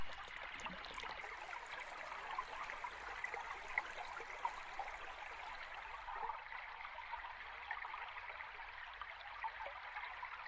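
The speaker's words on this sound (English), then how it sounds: "Shallow streams leisurely stroll through the forest, and gently reach the Gulf shore." A shallow forest stream running toward a Gulf shore, with a soft, steady wash of flowing water that continues evenly throughout and has no voices.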